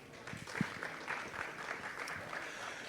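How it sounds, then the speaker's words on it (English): Quiet applause from a small presentation audience, scattered clapping with a few closer claps and faint murmurs underneath, fairly soft overall. "So everyone, please give Phil a round of applause for his presentation today."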